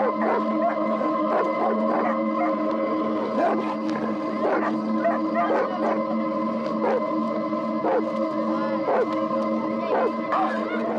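Dogs bark and yelp repeatedly at a cobra, loud, close and rhythmic, with howl-like tones mixed in over continuous noise; no one speaks.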